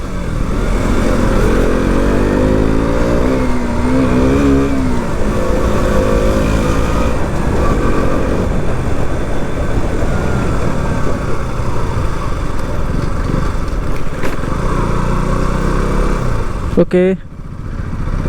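A motorcycle engine hums steadily through a ride and arrival at parking, with someone talking over the running engine and a brief clunk near the end.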